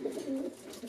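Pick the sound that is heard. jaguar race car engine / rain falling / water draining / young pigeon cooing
young pigeon cooing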